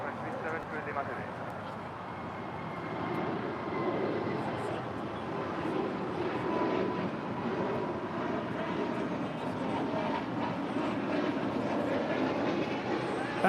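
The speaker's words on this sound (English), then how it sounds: "That was Spirit Airlines Flight 2330 departing to Baltimore on an A320 Neo" A Spirit Airlines Airbus A320neo departs LAX with a broad, steady jet engine roar that swells gradually over the runway noise, while voices talk over it.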